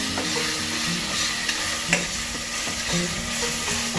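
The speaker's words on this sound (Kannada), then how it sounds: "ಇದಕ್ಕೆ ಪುದೀನ ಸೊಪ್ಪು ಚೆನ್ನಾಗಿ ಆಯಿಲಲ್ಲೇ ಫ್ರೈ ಆಗಬೇಕು" Mint leaves frying in hot oil while cooking Andhra-style green chilli mutton: a steady, close sizzle with stirring scrapes and light clinks of a utensil in the pan, continuing evenly throughout with no talking.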